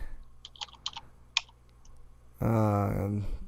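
Close computer keyboard typing: a few scattered sharp key clicks in quick bursts, then a voice talks over a quieter background.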